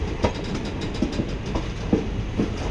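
A train pulls into Mysore Junction, its wheels beating out a steady clickety-clack over a continuous low rumble, heard close and without voices.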